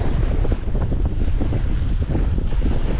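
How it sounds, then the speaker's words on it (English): Strong wind buffets the microphone on an open beach during a falling tide, a constant loud low rumble with gusty swells, steady throughout with no talking. "wind's right on my back"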